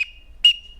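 A duck whistle imitating a male teal's peep gives two short, thin, high whistled notes close by, each trailing off quickly with a short gap between them.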